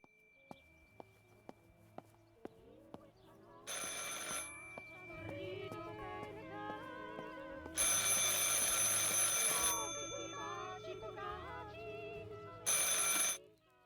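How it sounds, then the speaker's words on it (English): A telephone in the video game Martha Is Dead rings in three loud bursts over a quiet background, with faint footsteps and ticking between the rings. "I should pick up the phone but remain silent."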